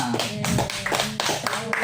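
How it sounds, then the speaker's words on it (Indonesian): A small class of students in a classroom teaching session claps in short, uneven bursts, close and fairly loud, with voices mixed in. "Oke, tepuk tangan semuanya."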